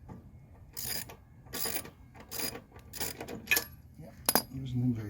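Metal spark plug socket clinking and ratcheting while loosening the spark plug on a Honda/Husqvarna lawn mower: several short, close metallic clicks and rattles in bursts, fairly quiet, with a brief louder clank near the end.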